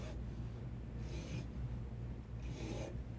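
A jeweller's file rasps metal from the sizing stock of a ladies' ruby and diamond ring, working aggressively. Two close, distinct bursts of filing strokes stand out over a low steady hum.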